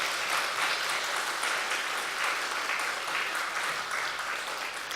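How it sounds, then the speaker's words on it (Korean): Church congregation clapping together in a steady, dense round of applause that fills the sanctuary, sustained and even in loudness throughout with no break. "하나님께 영광의 박수 한번 치십시다."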